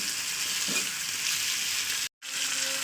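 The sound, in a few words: frying spice mixture for khichuri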